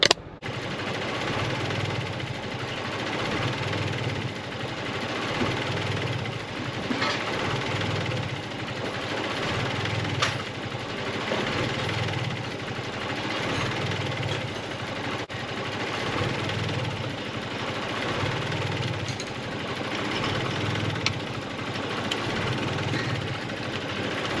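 Honda Civic fitted with a swapped G23 VTEC engine idling steadily, a continuous near mechanical drone with a regular pulsing beat as the idle speed settles lower, no talk over it.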